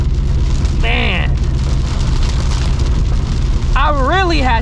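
Rain pours on a 2024 S650 Mustang GT with a drag pack during a drive, a dense, loud, constant wash of roar and patter, with voices talking over it in bursts.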